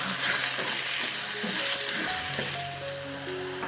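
Ground spices (turmeric, coriander powder and Kashmiri chilli powder) frying in hot oil for a spicy soybean curry, a steady close sizzle with faint stirring scrapes throughout, no talking.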